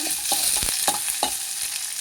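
Whole spices sputter in hot ghee, a steady bright sizzle punctuated by a few sharp pops and crackles, close and continuous.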